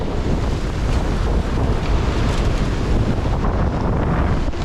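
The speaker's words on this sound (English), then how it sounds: "Waves are picking up as well" Storm at sea aboard a sailing boat: 40-knot wind roars against the microphone while waves surge and wash loudly around the hull, forming a dense, continuous rush with no voices.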